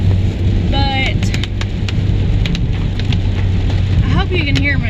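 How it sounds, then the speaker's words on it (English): Steady rain drumming on a car, with a constant wash of noise and low engine or road rumble, plus occasional squeaky sweeps that fit windshield wipers, continuous throughout. "I hope you can hear me where it's raining and my windshield wipers."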